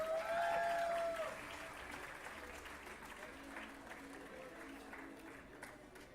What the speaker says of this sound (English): Audience, please give them a round of applause.